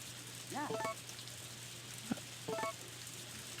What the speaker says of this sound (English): Nice rain and jog.